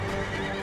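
A cavalry horse in Empire: Total War neighs loudly in a short, close whinny over the steady clatter of hooves, with no voices.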